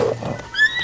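A short, high horse whinny from The Legend of Zelda: Breath of the Wild, rising and wavering, loud and close, with no talking.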